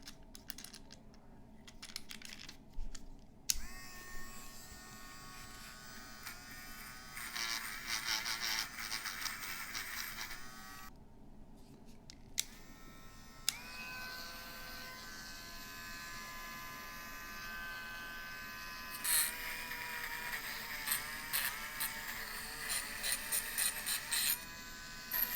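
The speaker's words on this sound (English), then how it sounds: "So we'll start with the wire wheel, and we'll start polishing the metal." Rotary wire wheel polishing the metal body of a Matchbox 73a RAF 10 Ton Pressure Refueller die-cast model, a close buzzing whir with intermittent scratchy bursts and brief stops as the tool touches and lifts from the piece.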